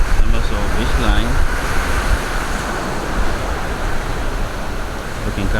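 Ocean surf rolls onto the beach at Punta Cana in a constant, loud wash mixed with wind buffeting the microphone, while a voice briefly carries over the roar early on.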